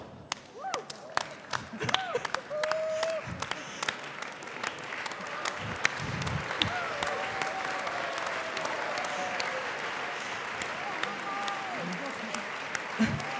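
Crowd applause at a party conference in Hagen, sustained clapping from a large audience that builds and holds steady, with scattered sharp claps, occasional thumps and a voice speaking over it.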